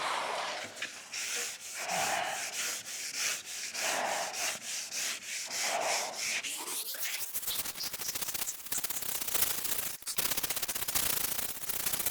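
Hand block sanding with 180 grit sandpaper, close and loud rhythmic back-and-forth rasping strokes, then a faster, denser continuous scrubbing for the rest.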